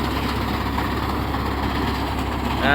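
A tractor engine runs steadily at normal speed during wheat harvest, with a constant low rumble and no pauses, close by and fairly loud.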